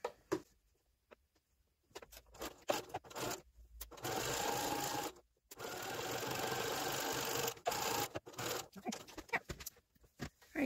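A sewing machine runs a side seam through plain weave fabric woven from knitting yarn, sewing in several steady bursts of whirring stitches broken by short pauses, close and clear with no talking.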